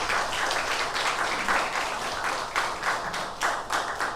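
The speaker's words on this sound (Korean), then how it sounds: "우리 성가대 감사의 박수" A church congregation applauding the choir during a Sunday service: steady, dense clapping from many hands, moderately distant and diffuse in a reverberant hall, with no voices over it.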